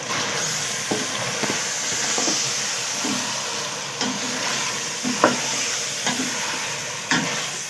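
Mutton for palak gosht fries with red chili, coriander, turmeric and salt, a continuous close sizzle and steam hiss punctuated by repeated spoon scrapes and knocks as the mixture is stirred.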